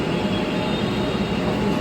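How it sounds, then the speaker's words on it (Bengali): A Kolkata Metro train arriving at a crowded station, a loud, steady rail rumble and roar filling the brief moment without any voices. "থামবে মেট্রোটা।"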